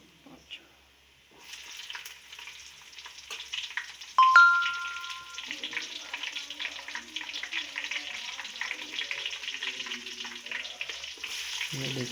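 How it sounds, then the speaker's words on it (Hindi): Onions and ginger garlic paste frying in hot oil for beef pulao, a steady loud sizzle that swells sharply as more food hits the pan, with stirring scrapes underneath. "अदरक लहसुन का पेस्ट डाल दिया है, इसे अच्छी तरह से हिला लेंगे हम। अब हम प्याज डालेंगे।"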